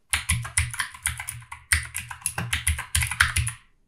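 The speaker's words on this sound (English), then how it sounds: "click and start typing whatever the title of your video is going to be" Rapid, close clicking of fingers typing on a computer keyboard, a steady run of crisp keystrokes with a brief pause midway and no voices.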